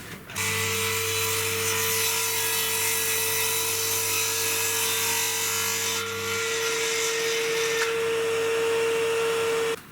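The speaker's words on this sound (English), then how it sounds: "Wait till the blade stops spinning before you lift it up." Power saw cutting wood for a handmade gift box: a loud, steady whining motor tone with a harsh broadband cutting rasp that holds for several seconds, then shifts as the blade spins down and restarts near the end.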